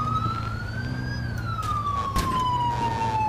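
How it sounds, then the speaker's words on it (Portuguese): A police car siren in the video game GTA IV wails in slow rising and falling sweeps, loud and close, over a low engine drone with a brief burst of noise midway. "Chegou outra viatura aí."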